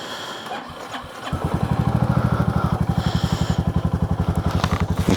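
A motorcycle engine cranks and catches, then settles into a steady, loud, pulsing idle close by in cold 5-degree winter weather, with no talking.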